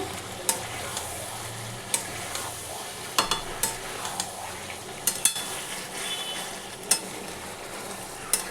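Goat meat korma with papaya being sautéed in a pot, a low steady sizzle with intermittent spoon clinks and scrapes against the pot, close and without talk.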